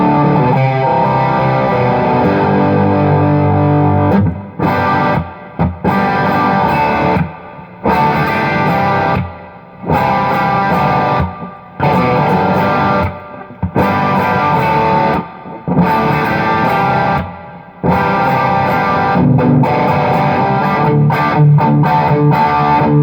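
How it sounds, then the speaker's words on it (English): An electric guitar on its bridge pickup plays through a Peavey 6505 amp, giving a crunchy classic-rock overdrive. Loud strummed chord phrases repeat with brief gaps between them, and no one talks. "I'm now switching to my bridge pickup. And this gives you a pretty good bluesy-ish, but more of like a classic rock kind of a tone."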